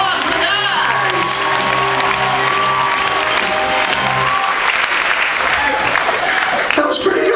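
Cruise ship audience at a Carnival Liberty welcome show breaking into loud applause and cheering, dense clapping with whoops and shouts filling the room from start to finish, with a voice over the crowd.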